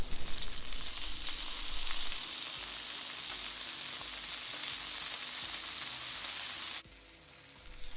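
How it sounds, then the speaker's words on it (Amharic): Fish fries in a hot pan with oil and butter, giving a loud, continuous sizzle and crackle throughout. It cuts abruptly to a quieter, fainter frying hiss near the end. "ከጠበስን ብራውን እስኪሆን ድረስ ከጠበስነው በኋላ እናነሳውና"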